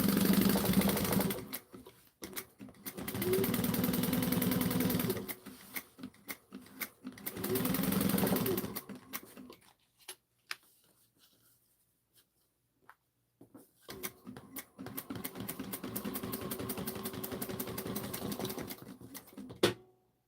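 Sewing machine stitching a quarter-inch seam on a tote lining, running in several bursts of steady rapid clatter separated by quiet pauses, close and clear.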